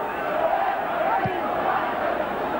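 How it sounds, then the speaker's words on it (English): A big Leeds rugby league stadium crowd during a Leeds v Castleford match gives a sustained, distant roar of cheering, with a commentator's voice over it. "Right in front of this big Leeds crowd."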